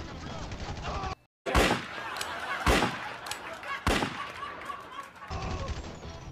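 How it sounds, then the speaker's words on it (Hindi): Several sharp, loud gunshots in the video game GTA 5, spaced about a second apart, over a busy game background with muffled voices. "अबे छुप छुप के गोली चलाता है"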